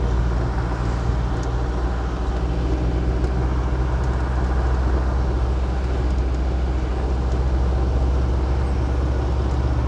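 A VW 8-150 delivery truck drives through a residential neighbourhood in Boa Vista, Brazil, its engine giving a steady low drone with road rumble that holds evenly throughout, and no voices are heard.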